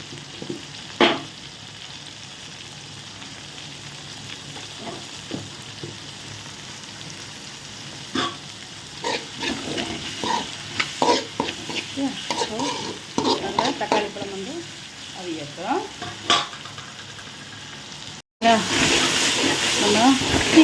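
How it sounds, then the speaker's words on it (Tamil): Tomatoes frying in a pan for a ground-masala chicken curry, with scattered stirring scrapes and soft sizzling that swells into a loud, steady sizzle near the end. "தக்காளி பழம் நல்லா வதங்கட்டும்"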